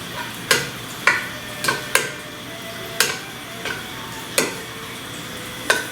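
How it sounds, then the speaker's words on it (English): Butter melting in a pan for Eggs à la Goldenrod, a soft constant sizzle broken by about ten sharp, evenly spread clicks or taps from utensils against the pan. "So this is the butter melting."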